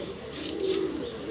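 An Indian high-flying pigeon with large wings gives a low, steady cooing murmur close by against a soft hiss of background noise, with no talking.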